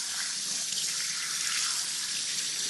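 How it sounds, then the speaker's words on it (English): Cold tap water runs steadily over a freshly cleaned fish, a continuous close hiss of splashing flow with no voices. "And then I'll rinse it under cold water."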